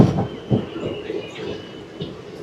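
The Puri Tirupati Express (17479) rolls along the rails, a rumbling, rattling carriage noise heard from inside with faint rhythmic wheel clacks and light squeals, steady and close.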